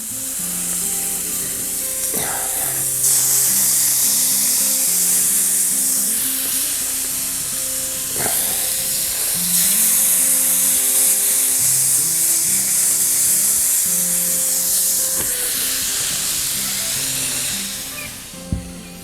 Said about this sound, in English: Oh, get that sizzle going.